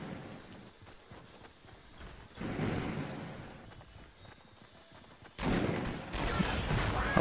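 Shotgun fire from a shooter video game comes as loud broadband bursts, one around the middle and a heavier sustained barrage near the end, over lower, rattling in-game background noise.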